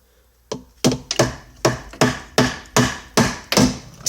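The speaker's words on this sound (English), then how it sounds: "you can just use a hammer" Eight sharp metallic hammer knocks strike the rear shock of a 2002 Jeep Liberty during removal, spaced roughly half a second apart in a steady rhythm, loud and close with no talk.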